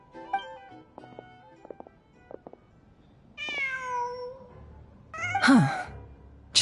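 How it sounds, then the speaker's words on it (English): A cat meows in the video game Genshin Impact, first a few soft clicks and taps, then a drawn-out whining meow, then a sharper louder meow near the end, with no talk over it. "Huh. Just a cat."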